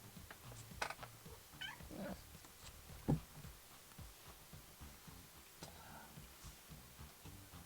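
A cat meows softly a few times at a distance, the calls faint and spaced out over a low background with no talk.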